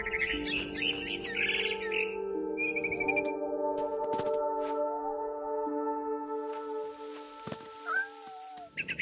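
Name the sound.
barn swallow chirping in a video game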